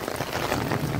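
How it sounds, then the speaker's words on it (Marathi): Steady, fairly heavy rain pours down around someone standing under an umbrella, a dense, continuous patter with no voices. "अजूनही पाऊस चालूच आहे बऱ्यापैकी."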